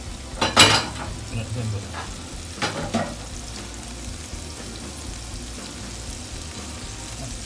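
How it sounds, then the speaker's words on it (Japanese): Bacon frying in olive oil in a pan for a Roman amatriciana sauce, with a few sharp clatters early on before a steady, moderate sizzle continues on its own. "オリーブオイル入れます。 そこにベーコン入れます"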